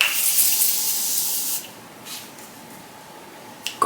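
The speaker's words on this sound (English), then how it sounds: "Let's do a little setting spray" A Morphe makeup setting spray gives a loud, close spray hiss that lasts about a second and a half, then stops, followed by quiet with a small click near the end.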